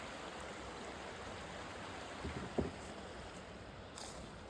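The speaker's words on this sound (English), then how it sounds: "Got a little creek down there." A small creek flows in a steady, soft, continuous wash of water, faint and even throughout with a couple of light knocks near the middle.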